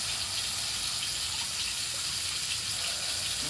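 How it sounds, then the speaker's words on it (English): Water streams into a cooking pot with steak for a stew, a steady hissing gush close by that runs without pause from start to finish. "Add a little bit of water to that."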